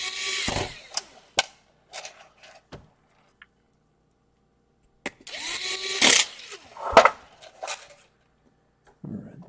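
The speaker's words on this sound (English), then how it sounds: "Now this is a torque drive, so this is the lowest setting on the torque." A torque screwdriver set to its lowest torque setting backs screws out of an HP EliteBook 850 laptop, giving close, intermittent bursts of ratcheting and clicking separated by quiet pauses.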